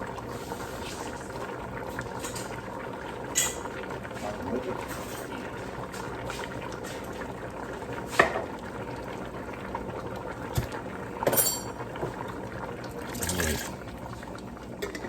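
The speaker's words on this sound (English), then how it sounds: "vegetables have been boiling for 15 minutes" Vegetables and potatoes boiling in a soup pot, a steady bubbling wash with occasional louder splashes and clinks, heard close under a person talking.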